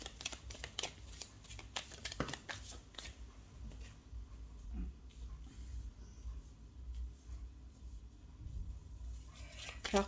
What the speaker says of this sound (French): jusqu'à ce que j'ai posé toutes les cartes